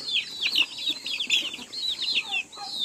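Rhode Island Red chickens cluck and chatter in a busy, overlapping flurry close by, with brief flutters mixed in and no voices over them.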